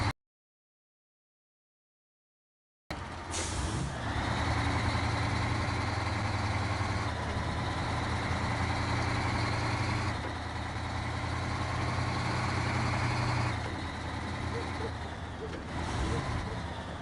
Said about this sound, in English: Release the handbrakes and start the engine.